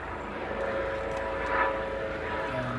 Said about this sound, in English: Helicopter flying straight overhead